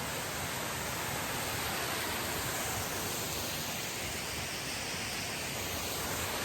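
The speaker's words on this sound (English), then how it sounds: "take a look at one of the little waterfalls" Small waterfall in a canyon on a rainy hike, a loud, constant broadband rush of falling water, close and unbroken throughout.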